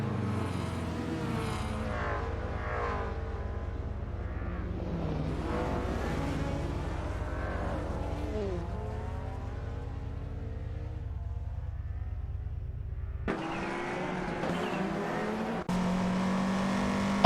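Rally race cars in a video game roar in a steady, overlapping engine drone, with pitch rising and falling as they accelerate and jostle for position; the engine sound shifts abruptly near the end.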